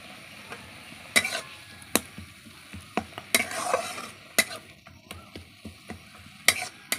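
Sour greens (khata saga) frying in a pan. A quiet sizzle runs underneath as a utensil scrapes and clacks against the pan in irregular stirring strokes, close and fairly crisp, with no talking.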